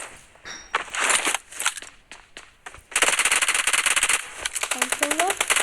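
Rapid machine-gun fire rattles in a shooting video game, with scattered shots and footsteps first and then a dense sustained burst, loud and close, while voices talk over it.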